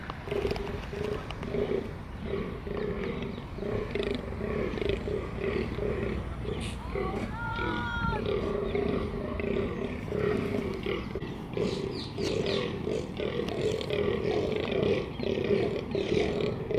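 Deer in rutting season bellow repeatedly in deep, rough roaring calls, fairly loud and outdoors, with faint birdsong in the background and no talk.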